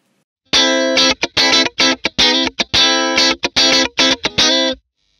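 Funk guitar riff played through a Blackstar St James amp with a fast compressor engaged, giving a fat, even tone; loud, tight choppy chords in a syncopated rhythm, alone with no talk.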